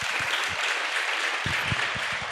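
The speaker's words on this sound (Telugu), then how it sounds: "ఒక్కసారి గట్టిగా బాలు నాయక్ గారికి, ఎమ్మెల్యే గారికి వైపు తిరిగి చప్పట్లు కొట్టండి" Audience at a nursing capping ceremony applauding the MLA, a bright sustained patter of many hands clapping, with some low thumps in the background.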